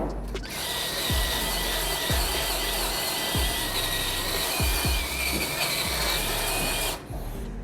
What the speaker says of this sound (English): You could now hit it with a spot weld cutter and you'd be fine.